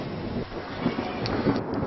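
Thunder rumbles over steady rain, a continuous hissing downpour with a low roll, close and moderately loud, with no talk.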